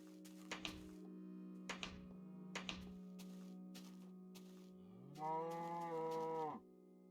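A cow in Minecraft beta 1.7.3 gives one clear, drawn-out moo near the end, preceded by several sharp in-game tapping thunks over a steady low background hum.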